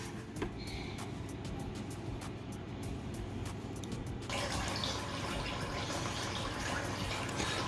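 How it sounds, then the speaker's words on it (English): Oil drains through the opened petcock valve of a Butterball XL turkey fryer in a steady, gushing pour, like a running tap. The flow grows a little louder and fuller partway through. "We're draining oil."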